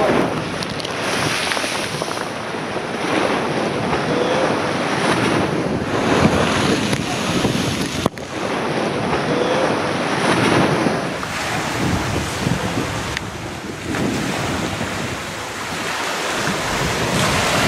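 Rough surf breaks along a beach at Morro de São Paulo on Ilha de Tinharé, a steady loud wash of waves with wind buffeting the microphone throughout and no voices.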